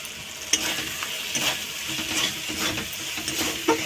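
A spice paste with Kashmiri red chili is stirred and sizzles steadily in a hot pan, with close scraping strokes and crackling frying throughout, no voices.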